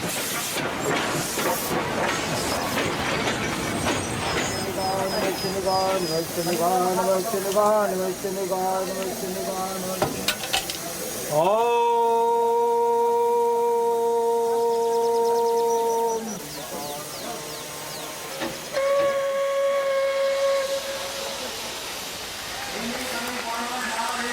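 Indian Railways steam locomotive heard close and loud, letting out long hisses of steam and sounding sustained tonal whistles with a rising pitch, one held several seconds and a shorter one after, amid rumbling rail noise.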